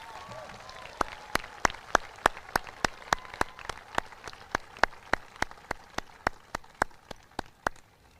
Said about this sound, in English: Let's give another round of applause to the choir and our bands